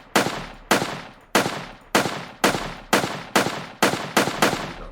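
Gunshot sound effect firing in an Unreal Engine 4 game level, nine loud sharp shots at a steady rhythm about half a second apart, each with a quick decaying tail, heard alone.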